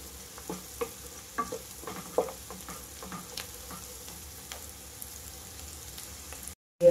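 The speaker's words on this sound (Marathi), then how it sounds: "आता घालून घ्यायची आहे हळद 1 चमचा आणि छान असं परतून घ्यायचं आहे" Turmeric stirred into frying onions or spices in a pan for a jackfruit bhaji, giving a steady low sizzle with scattered scraping stir clicks and a brief silent gap near the end.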